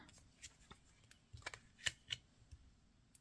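Tarot cards are drawn and handled quietly up close, giving a few soft slides and crisp card snaps spread over a few seconds in a hushed room.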